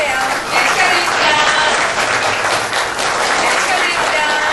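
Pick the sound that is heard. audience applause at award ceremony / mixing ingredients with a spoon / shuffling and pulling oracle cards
audience applause at award ceremony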